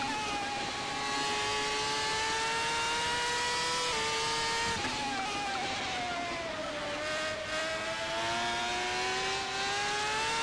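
A 1995 Ferrari Formula 1 car at the Nordschleife screams continuously at high revs, its engine pitch climbing and dipping through gear changes, loud and close.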